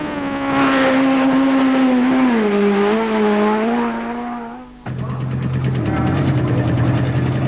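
A loud, close 1997 Top Fuel drag racing motorcycle engine, a supercharged 1407cc Puma Yamaha running on nitromethane, roars and revs, its pitch sliding down, then cuts abruptly into a harsh, rattling idle.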